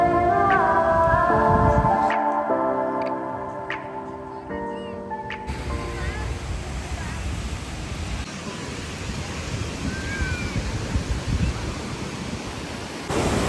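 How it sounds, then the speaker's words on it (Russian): Sea waves on a wide, crowded beach at Spille, Albania, on a day of big surf: a broad, steady roar of breaking water with wind noise, preceded by a few seconds of other tonal sound before the surf takes over. "Волна сегодня большая"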